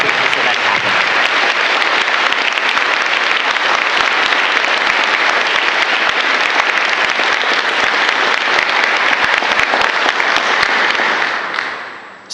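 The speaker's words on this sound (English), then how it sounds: "Can we please have a big round of applause for all these incredible sponsors" Sustained applause from an auditorium audience at a closing ceremony, loud and dense throughout, with no talk over it, fading out at the very end.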